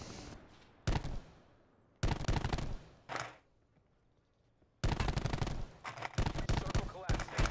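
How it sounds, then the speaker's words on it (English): Automatic gunfire in Call of Duty Blackout, loud bursts of rapid shots separated by quiet gaps, with a longer sustained barrage near the end. "Be careful, he was shooting someone on that side."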